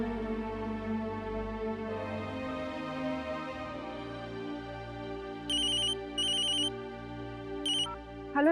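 Telephone ringtone playing during a TV drama scene as a caller tries to get through, several short bright electronic ring bursts repeating over a sustained music bed, with no talking.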